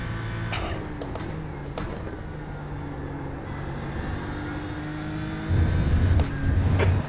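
BMW M4 GT3 race car engine at Road America in a racing game, a steady droning note holding through most of the stretch, then rising in a louder revving burst near the end.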